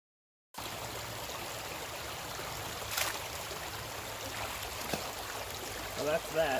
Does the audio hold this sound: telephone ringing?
no